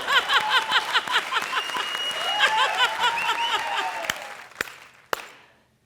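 A studio audience at a comedy show claps in a dense burst of applause that swells, then thins to a few scattered claps and fades out.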